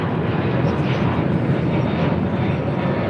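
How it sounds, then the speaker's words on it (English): Delta Airlines flight 451, a jet bound for Orlando, takes off from runway 25 right on the south side at LAX, its engines a loud, steady broadband roar that fills the whole stretch. "It's our first takeoff here on the south side on 25 right."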